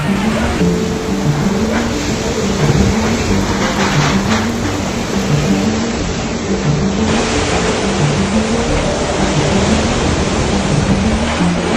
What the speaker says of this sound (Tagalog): hinampas na ng malalakas na alon.